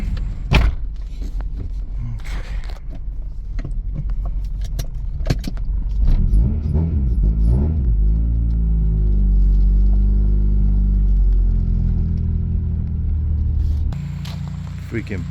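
A car's engine starts and idles with a deep rumble as it is moved into a shop, with keys jangling and thumps at first, and a person talking over parts of it.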